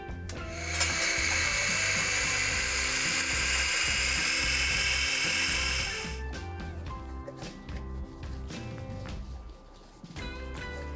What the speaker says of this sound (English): pulse 5 cups of mushrooms in a food processor until finely chopped